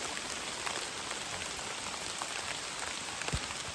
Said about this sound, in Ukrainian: Так, в нас тут трошки неочікувано змінилася різко погода. Почав падати град.